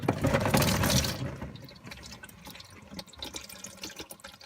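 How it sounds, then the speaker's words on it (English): Transmission fluid gushes from a 2003–2004 Mustang Cobra into a drain pan, a loud pouring splash at first that quickly thins into faint trickles and drips. "let all the transmission fluid drain out into the pan"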